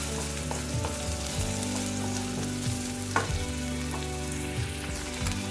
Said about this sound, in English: So I'm gonna fry a bit.